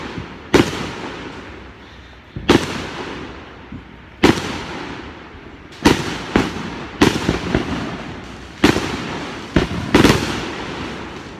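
Fireworks burst in a series of loud, sharp booms at uneven intervals, some doubled in quick succession, each followed by a fading rumble, with no voices.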